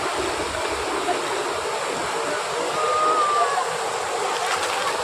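A gently flowing stream runs near a dam in a Kerala village, a steady broadband rush with no clear splashes or children's voices standing out.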